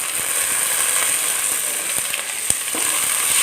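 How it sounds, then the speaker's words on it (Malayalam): Sliced onion frying with ginger garlic paste in a pan, a steady close sizzle throughout with a few faint clicks, no voices. "ആ ഉള്ളി നമുക്ക് ഇതിനകത്തേക്ക് ഒന്നിട്ട് മൂപ്പിച്ചെടുക്കാം"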